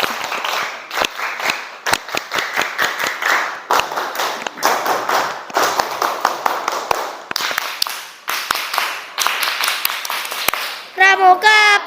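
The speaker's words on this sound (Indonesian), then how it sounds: "3 kali tepuk pramuka." A class does a scout clap, sharp sets of rhythmic group clapping close by, with children chanting and calling between the rounds and a short high-pitched sound at the very end.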